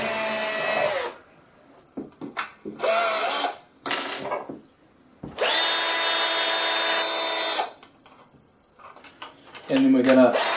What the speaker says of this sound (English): So first of all, we'll just drill this hole.